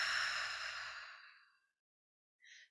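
A long open-mouthed exhale during restorative yoga breathing, close and breathy, fading out over about a second and a half, followed by a short faint breath after a pause.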